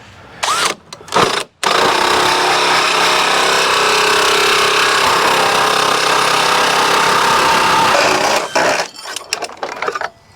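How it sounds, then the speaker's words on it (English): A DeWalt power drill whirs loudly and steadily for several seconds, with a few short bursts of the motor just before and after the main run. "we grabbed our DeWalt drill here"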